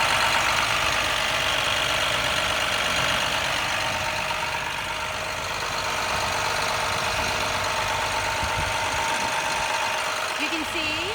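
The International 7.6 diesel in a 2012 IHC Medtec Type I ambulance idles as a steady, close, even rumble with a constant drone for the whole stretch.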